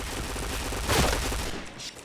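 A rapid burst of automatic gunfire in a shooter video game, a dense fusillade of shots that swells sharply near the middle and then fades, with no talk over it.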